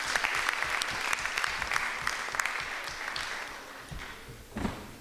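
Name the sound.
applause for the vice chair and parent leaders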